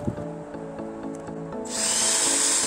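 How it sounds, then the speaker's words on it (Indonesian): An electric drill whirs with a steady pitched motor hum, then rises into a harsher, louder grinding as the bit bores holes into an amplifier box. "kita mulai bor dulu untuk membuat lubang bornya"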